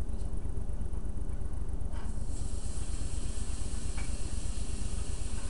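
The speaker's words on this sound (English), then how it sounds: "Okay, we want to get that butter in there. Get that to melt around." Butter melts in a pan for a shrimp étouffée roux, giving a steady, close hiss and sizzle with no talking and a few brief brighter spits.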